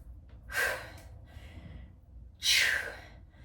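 Heavy breathing after a full-body HIIT workout with weights: two loud, breathy exhalations about two seconds apart, with softer panting between them and no speech.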